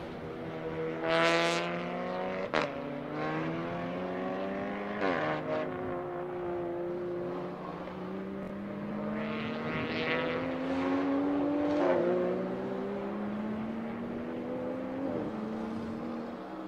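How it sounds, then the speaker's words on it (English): Race cars at a time attack event at Circuit of the Americas running in tandem, engines droning with rising pitch sweeps as they pass, several cars overlapping at moderate distance. "You had 3 cars in tandem."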